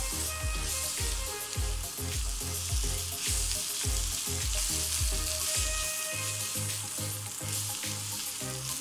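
Flour frying in butter in a pan for mushroom and prawn soup, a steady close sizzle overlaid with regular scraping strokes of a spatula stirring, no voices.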